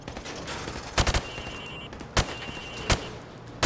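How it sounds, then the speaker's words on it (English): Rifle fired from the hip at range targets in Call of Duty: Modern Warfare Remastered, a handful of sharp loud single shots and a quick burst of three, spaced irregularly over steady background noise. "Now, shoot at the targets while firing from the hip."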